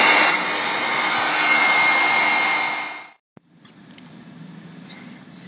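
A craft heat dryer blowing over inked artwork, a steady loud whooshing hum that cuts off with a click near the middle, then a quieter hum returns.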